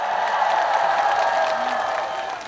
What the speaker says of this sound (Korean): 정말 고생 많으셨다고 이분들께도 다시 한번 박수 부탁드리겠습니다